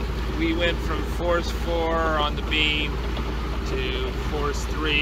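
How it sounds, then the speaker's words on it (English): Sailboat's engine motoring through calm sea at night, a steady low drone running under close conversation throughout. "You can hear the engine in the background."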